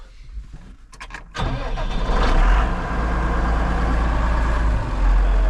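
A farm vehicle engine cranks briefly with starter clicks, then catches and settles into a loud, steady low idle, close by, while bailing straw.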